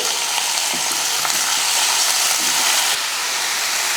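Raw plantain pieces go into a pan with sautéed ginger garlic paste and fry with a loud, constant sizzle, with faint stirring scrapes underneath and no talk.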